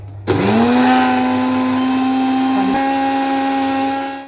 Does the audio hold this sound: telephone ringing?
no